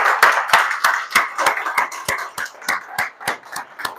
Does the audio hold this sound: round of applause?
yes